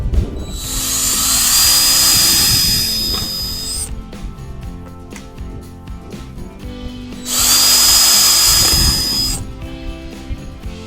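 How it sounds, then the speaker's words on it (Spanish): A power drill whines in two loud bursts, grinding into plastic pipe, with handling clatter and quieter pauses between them. "con el taladro voy a hacer 2 perforaciones en el tubo de PVC"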